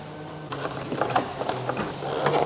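A hand ratchet clicks in quick irregular bursts while refitting screws under the front carbon splitter of a 2023 BMW M3 G81 Touring, close and fairly soft with short pauses between strokes.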